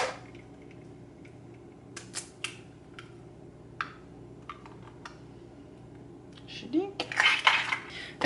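Two whole eggs are cracked and dropped into a dish in a home kitchen: scattered sharp taps and clicks, then a louder cluster of knocks and scraping near the end, with no talking.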